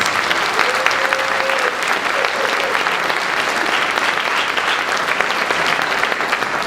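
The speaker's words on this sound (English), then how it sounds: "Would you please join me in giving a round of applause for all of our sponsors?" An audience at a Tuskegee Airmen honor ceremony applauds the sponsors, giving sustained, loud, dense clapping that holds evenly throughout with no break.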